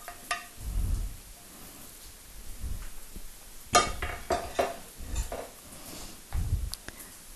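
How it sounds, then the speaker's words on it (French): Chicken livers grilling in a pan, with soft sizzling under intermittent clinks and scrapes of utensils against the pan, quiet and close, with low thumps between. "faire la dernière cuisson des foies, c'est-à-dire que nous allons les griller"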